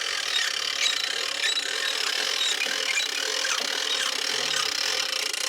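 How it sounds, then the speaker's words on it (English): A hand crank ratchets the telescoping tongue of a Japa 365 Pro firewood processor, producing a steady, close, continuous clicking and grinding. "as I crank this in, it'll finish telescoping in as I crank it"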